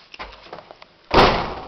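A house's front door is opened and closed, giving a faint handling rattle followed by a louder, broadband swing and thud that rings out briefly, with no talking.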